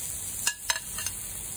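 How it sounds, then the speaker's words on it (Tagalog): Soft, steady sizzling of eggplant cooking on a grill, with a few quick scraping clicks close by. "Kumukulo talaga ang talong."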